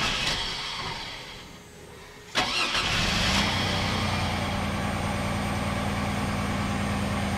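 A Chevy S-10 pickup engine cranks briefly, catches with a sudden burst, then settles into a steady, rumbling idle close by.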